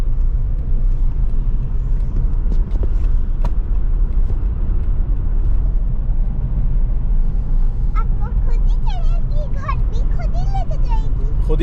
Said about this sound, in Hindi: अब ये हमने गियर फ्री कर दिया गाड़ी का और गाड़ी खुद ब खुद चल रही है।